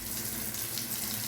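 Cold tap water running steadily into a container during hurricane preparation, a continuous gushing rush with no voices.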